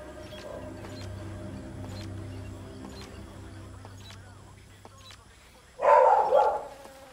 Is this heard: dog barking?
yes